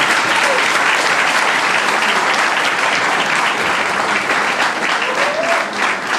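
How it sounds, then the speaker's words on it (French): A gala evening audience applauds the company's founder, a dense, sustained roar of clapping from a large crowd that holds steady throughout and dips slightly at the very end. "j'aimerais, s'il vous plaît, mesdames et messieurs, qu'on applaudisse pour le fondateur de cette entreprise, qui est Rita Service."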